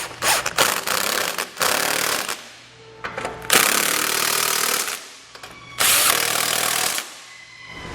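A power tool snugs down the bolts of a Roadmaster Direct-Connect base plate on a 2015 Jeep Cherokee. Three loud bursts of rattling impact run a second or two each, with short quiet gaps between them.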